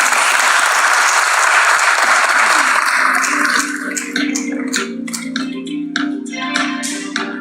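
Audience gives Anand Rathi a round of applause at a stock-market listing ceremony, thick steady clapping for about three seconds that thins into scattered individual claps over a background tone.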